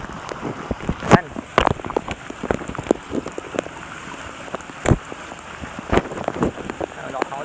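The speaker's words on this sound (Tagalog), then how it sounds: "Lakas ng ulan, no?" Heavy rain falling outdoors during a fishing trip, a continuous dense patter on surfaces with scattered sharper drop hits and occasional louder knocks close by.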